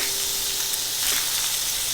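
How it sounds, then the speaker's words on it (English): Lamb T-bone chops sear in a hot pan, giving a steady, close, loud sizzle and crackle with faint spattering pops throughout, no voices. "Go ahead and sear the other side"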